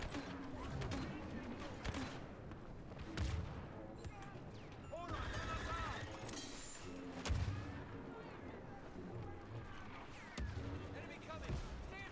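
The barrage weapon fires in Star Wars Battlefront II, with repeated booming blasts, mechanical creaks and explosions layered in a busy game mix under ongoing speech.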